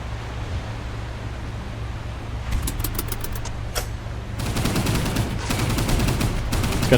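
A Lewis machine gun fires from a boat in the Pacific naval game Boat Crew, in rapid bursts over a steady engine and water rumble, with a heavier, sustained burst in the second half.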